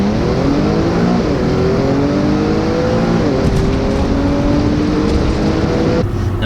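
A 2011 B8 Audi S4 on a Stage 2 APR tune pulls hard through the gears, its supercharged engine loud and close, the revs climbing steadily, dipping at each shift, then easing off near the end.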